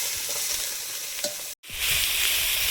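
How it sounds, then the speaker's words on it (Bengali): Shrimp lightly frying in oil in a pan, a dense, even hiss of sizzling close by, with one faint clink and a brief break in the middle before it resumes. "চিংড়ি মাছটা হালকা করে ভেজে নেব।"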